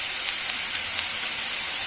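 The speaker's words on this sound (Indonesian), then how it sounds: "tumis bawang merah dan bawang putih, tumis hingga harum" Shallots and garlic sauté in a hot pan with vegetables, giving a continuous close sizzle and hiss at an even level throughout.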